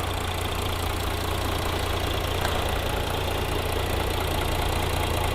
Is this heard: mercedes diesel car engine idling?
yes